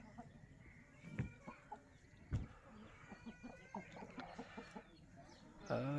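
Heavy double-body breeding hens cluck on a farm, scattered short calls and soft clucks spread over several seconds, with a couple of louder sharp calls standing out among the flock.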